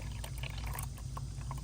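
A steady close pour of warm water into a container, a continuous splashing rush with no voices.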